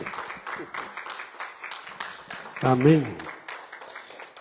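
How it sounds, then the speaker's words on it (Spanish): Church congregation applauding after a closing prayer, a steady spread of clapping throughout with a voice speaking briefly over it near the middle. "Si le va a dar un aplauso, déselo fuerte."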